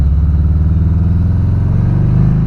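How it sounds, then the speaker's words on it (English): A 2017 Harley-Davidson Street Glide Special touring motorcycle idles close by with a deep, loping V-twin rumble, steady and loud throughout, with no voices. "here's the motorcycle"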